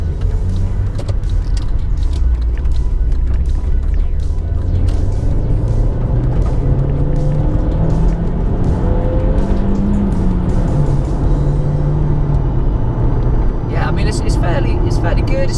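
A loud, steady engine drone from inside a moving Audi TT with a dated 150-horsepower engine, the pitch rising and falling slowly as it drives, with a voice talking over it.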